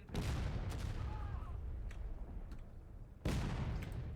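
Volleys of musket fire from a line of soldiers in a Civil War era video game battle, with sharp cracks and booms scattered over a constant din, one loud volley near the end.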